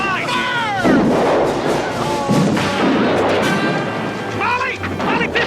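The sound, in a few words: cannon fire in battle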